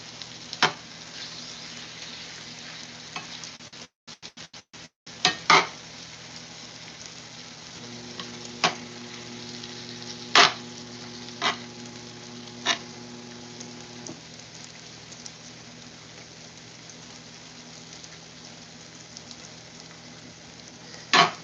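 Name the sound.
steak and onion frying for cheesesteaks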